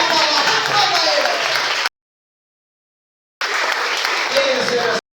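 Congregation at an Assembly of God church congress in São Paulo claps in sustained bursts of crowd applause, broken by a gap of silence, with voices blended into the clapping.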